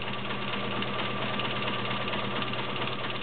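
Kenmore Model 1601 sewing machine stitching zigzag, a steady close mechanical whir with rapid even needle clatter running continuously and alone.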